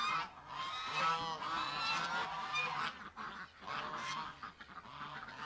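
Ducks call from inside their pen on a hot day, a run of loud, repeated honking quacks coming fairly close, one after another with brief gaps.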